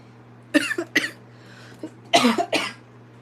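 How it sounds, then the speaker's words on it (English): Two pairs of short coughs, each pair quick and sharp, separated by a pause, over a steady low electrical hum. "There's the coughing. I saw the slight cough."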